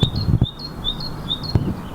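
A nightingale sings loudly and close by, a steady series of bright, repeated chirping notes, with a few short bursts of background noise mixed in.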